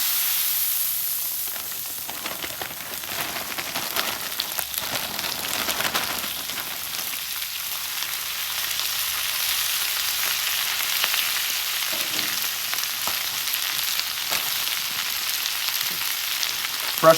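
Garlic and pork sizzling on a hot griddle, a steady broadband frying hiss with scattered crackles and pops holding at an even, fairly loud level throughout, no voices.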